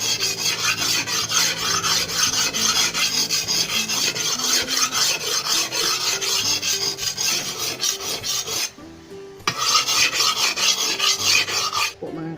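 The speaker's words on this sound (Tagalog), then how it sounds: "maghahasa muna ako ng aking gulok na gagamitin" A bolo knife (gulok) being sharpened by hand, steady rasping strokes of blade against stone repeating continuously and close, with a brief pause near the end before the scraping resumes.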